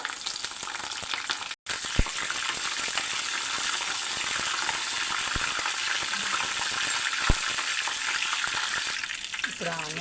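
Spices such as fennel seeds and curry leaves fry in hot oil for salna curry, a loud steady sizzle and crackle with a brief stirring scrape and a short break early on.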